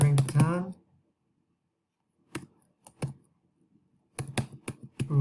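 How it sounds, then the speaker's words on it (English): Computer keyboard typing, heard as scattered clusters of crisp key clicks separated by silence, following a brief spoken phrase at the start. "Type in Suzette Carrington"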